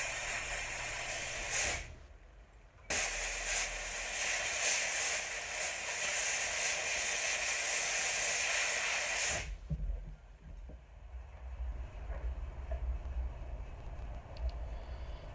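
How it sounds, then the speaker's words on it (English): A jewelry steam cleaner blasts a gold and diamond wedding band, a loud, harsh hiss that cuts in and out in bursts, with a long continuous spray before it stops abruptly. "once we finish the steaming process"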